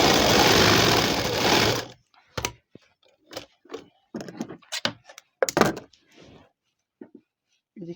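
A sewing machine runs in a steady continuous burr for about two seconds while stitching the belt onto a salwar, then stops; several soft knocks and handling thumps of fabric follow.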